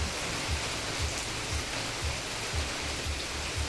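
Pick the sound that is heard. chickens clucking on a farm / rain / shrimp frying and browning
rain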